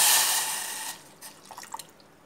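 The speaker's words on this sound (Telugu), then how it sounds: "అర కప్పు బెల్లానికి అర కప్పు వాటర్ వేస్తున్నాను" Water pours into a vessel of half a cup of jaggery with a bright splashing rush for about a second, then a few small drips and trickles follow.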